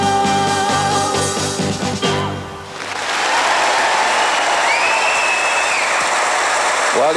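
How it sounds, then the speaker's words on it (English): Audience at the 1981 Eurovision Song Contest in Dublin breaking into loud cheering and applause after Ireland's song, rising from the end of the music into a dense, sustained roar of clapping. "you wouldn't expect anything else but an enormous cheer for that"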